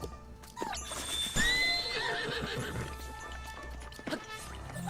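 A horse in Zelda Breath of the Wild lets out a loud, close whinny amid clopping hooves and rough movement, with a few brief thumps and faint game sounds around it.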